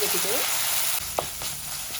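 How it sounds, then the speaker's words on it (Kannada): Onions and masala with ginger-garlic paste and green chilies frying in a pan, a steady close sizzle with a couple of brief utensil knocks near the end; a faint voice is heard early on. "ಈರುಳ್ಳಿ ಹಾಕೊಂಡು ಫ್ರೈ ಮಾಡ್ಕೊಳ್ತಾ ಇದ್ದೀನಿ"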